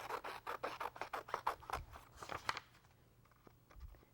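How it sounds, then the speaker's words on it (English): Scissors snip rapidly through the thick white border of a photo transfer, a quick string of crisp close cuts that thins out and stops, leaving a faint quiet tail. "So I'm definitely going to cut this off."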